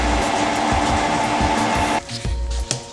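A power tool whirs loudly and steadily while pulling the wheels off a Mazda MX-5 for a coilover ride-height adjustment. The tone drops near the end as the tool eases off, leaving a few short clanks.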